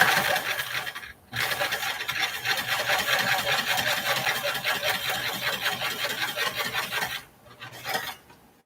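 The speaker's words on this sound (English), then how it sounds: "I'm just going to just start sewing it" A sewing machine runs steadily as it stitches a small piece of sweet floral fabric for a heart-shaped pillow or pincushion, with a dense whirring rattle that stops briefly after a second and again near the end.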